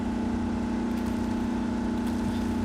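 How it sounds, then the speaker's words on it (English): Off-road truck engine in RoadCraft runs in low gear, a steady low droning hum with a strong tonal drone, held at a constant level with slight rising revs. "Just revs the engine a little more."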